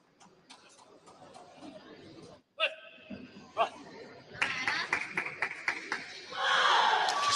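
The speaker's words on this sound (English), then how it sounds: "Wong just waiting till the applause has subsided before allowing Suthasini to get ready to serve." Spectators at a SEA Games table tennis semi-final cheer, shout and clap, with the noise building to a loud burst of applause at the end.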